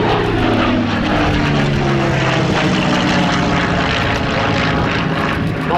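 Supermarine Spitfire at an air festival, its propeller engine roaring loud and close throughout in a continuous drone with a shifting pitch as it passes.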